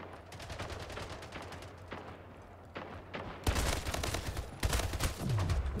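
Rapid, dense gunfire from a Splitgate match, with quick bursts of shots rattling on almost continuously and growing louder and busier toward the end, with no talk over it.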